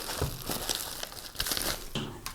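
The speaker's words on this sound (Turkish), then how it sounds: "kutusunu açıyoruz şu anda" Packaging from a Lenovo IdeaPad Gaming 3 laptop box crinkles and rustles up close in a steady series of crackling bursts, with no talking.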